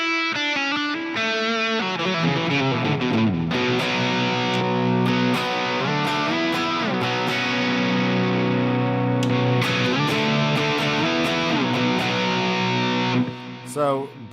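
An electric guitar plays a sustained, distorted lead line through a British 800 amp model on a Tone Master Pro, with ringing held notes and quick phrases, loud and upfront.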